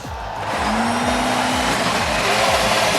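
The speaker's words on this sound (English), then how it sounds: "Drivers, start your engines!" Race car engines fire up and roar at the Indianapolis Motor Speedway, a dense, loud mechanical drone with repeated rhythmic bursts and a rising tonal whine, no voices.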